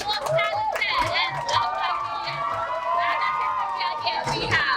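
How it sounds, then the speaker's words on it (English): At a store launch event with celebrity guests, an indoor crowd claps and cheers steadily, with dense applause and shouts throughout and an amplified voice heard over it. "Let's have a huge, huge round of applause"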